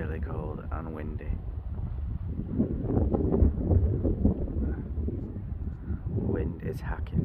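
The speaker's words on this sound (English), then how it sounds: "Wind is hacking straight down the lake, and it's all the cold air off the water" Steady, blustery cold wind blowing straight down a lake buffets the microphone with a low rumble throughout, gusting louder in the middle; no one speaks.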